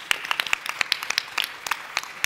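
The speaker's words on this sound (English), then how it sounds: "So if you can join me in giving them a round of applause." Small audience clapping for panelists at a European Development Days 2019 session on innovation for sustainable development: sparse, uneven individual claps, crisp and moderately close, with no talk.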